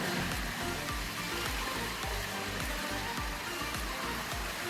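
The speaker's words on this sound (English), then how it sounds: "Got another little waterfall." A small waterfall at hot springs in Honduras, a constant broadband rush of falling water that stays even and unbroken throughout, moderately close and heard alone.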